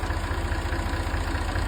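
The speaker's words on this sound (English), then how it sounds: "each tractor is going to be revved to the decibels of what one of the shipping container size batteries" Tractor engines rev steadily as a loud, continuous low rumble, heard up close and alone, used to match the noise level of a battery energy storage site.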